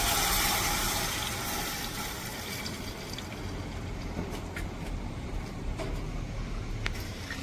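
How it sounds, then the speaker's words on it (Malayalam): Water pours into a pot of mutton for shurba as a steady, fairly faint rushing wash. The sound is a little louder at the start and carries on without speech. "ഇറച്ചി ആവാനുള്ള വെള്ളം നമ്മൾ ചേർത്ത് കൊടുക്കണമല്ലോ"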